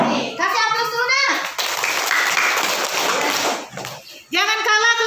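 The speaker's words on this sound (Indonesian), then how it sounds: "Kasih aplaus dulu" Applause in a school classroom led by the teacher: a couple of seconds of dense, steady hand clapping from a group of pupils. Children's voices come before and after it.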